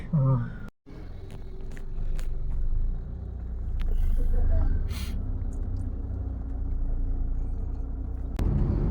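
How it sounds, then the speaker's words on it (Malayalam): Vehicles passing on a road make a continuous low rumble that swells and fades, heard fairly close. "വണ്ടികൾ വരുന്നുണ്ട് കേട്ടോ"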